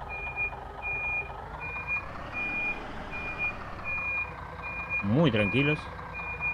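Reversing beeps from a Metalsur Starbus 3 bus in Euro Truck Simulator 2, a steady evenly spaced alarm repeating throughout over idling engine rumble, with someone speaking briefly near the end.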